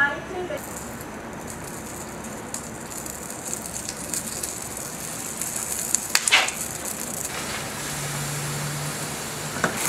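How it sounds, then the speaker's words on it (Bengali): Beef frying bhuna-style with ginger and garlic in a pan, a steady close sizzle throughout with a brief clatter of stirring midway and a low hum near the end. "আদা রসুন দিয়ে মাংসটা কিছুটা ভুনা করলাম।"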